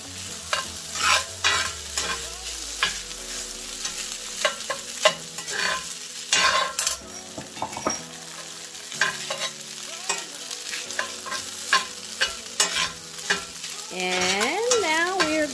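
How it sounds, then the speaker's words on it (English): Omelet rice frying in a skillet on medium heat, a steady close sizzle broken by repeated scraping and clacking stirring strokes, with no talk. "I'm going to continue to fry this. This skillet is on medium heat."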